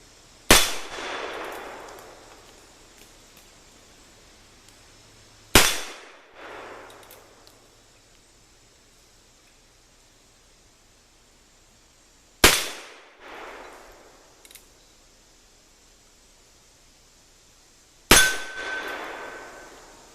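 Four sharp, loud gunshots from a Colt 1873 SAA .44 cap and ball revolver crack out several seconds apart, each followed by a short echoing tail outdoors and then quiet, no talking.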